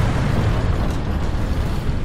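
A T-72B3 tank's main gun firing in a video game, heard as a loud, heavy low-pitched boom with rumbling that fills the whole moment rather than a separate sharp crack.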